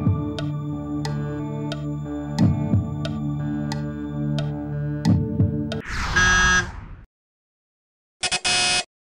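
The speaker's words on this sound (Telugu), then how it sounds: "మీరు తెలిస్తే బజర్ నొక్కండి" Game show buzzers on a Telugu television quiz show, heard as a sharp electronic buzz after a stretch of ticking, repeated tonal music; a second buzz follows a brief silence, no talking.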